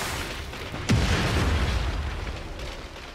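A car explodes in the video game Just Cause 3 with one sudden loud boom. A rumbling roar follows and slowly fades. No speech is heard.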